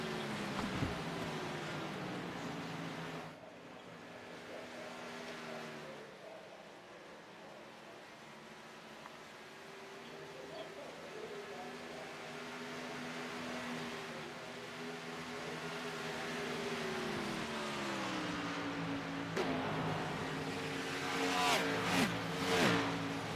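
Stock race cars in a video-game Xfinity Series race at Auto Club howl past in a steady pack, their engine tones rising and falling, with a commentator talking over the racket throughout.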